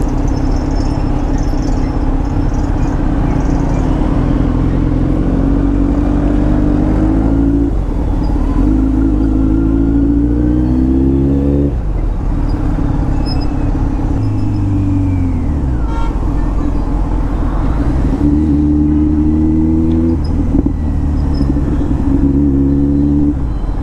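Kawasaki Z900 motorcycle revving in traffic, its exhaust note rising and falling in repeated sweeping throttle blips over a steady loud low rumble, close and continuous with no talk.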